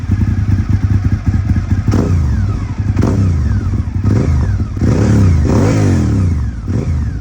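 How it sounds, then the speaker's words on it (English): A Honda RC51 motorcycle with gear-driven cams revs repeatedly, its loud engine rising and falling in several sweeps while a mechanical chatter rattles underneath, close up with no voices. "They make this super unique chatter that is just so intoxicating to listen to."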